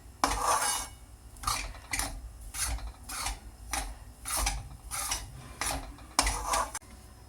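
Moong flour for healthy ladoos is stirred and roasted in a pan over a low gas flame, giving repeated scraping, rasping strokes of a spoon against the metal in a steady rhythm, close and clear with no talk.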